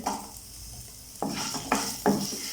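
Shallots with ginger and garlic frying in a pan for mutton kulambu, a steady soft sizzle broken by three sharp clinks and scrapes of a spoon stirring against the metal.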